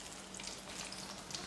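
Chicken pieces frying in hot oil give a soft, continuous sizzle and crackle, faint and steady, with no voices.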